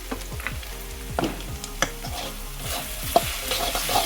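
Okra with salt and turmeric fries in a pan, a steady crackling sizzle punctuated by repeated scraping stirs and occasional sharp clinks of the spoon against the pan.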